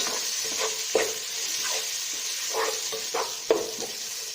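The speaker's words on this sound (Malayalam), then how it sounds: "വെളുത്തുള്ളിയുടെയൊക്കെ പച്ചവളം മാറുന്നത് വരെ ഒന്ന് വഴറ്റുക." Garlic and onions sautéing in a pan for a prawn biryani, a steady hiss of frying broken by a few sharp scrapes and knocks of a spatula stirring, close and moderately loud with no voices.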